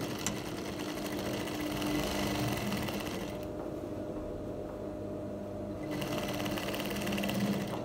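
A sewing machine stitches a palazzo jumpsuit in a fast, steady whirring hum, pauses for a couple of seconds, then starts running again.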